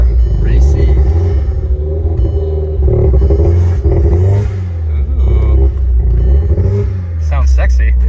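A Volkswagen car engine rumbles loudly and revs up and down nearby at a car meet, with people talking over the deep, throaty growl.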